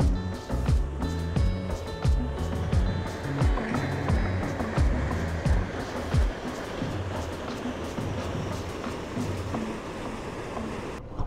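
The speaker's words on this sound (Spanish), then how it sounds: "tenemos acá el río que pasa por el Parque Natural Los Nevados." A river in Los Nevados Natural Park, Colombia, rushes as a dense, steady broadband roar, loud and continuous, with some low knocking and rumbling early on.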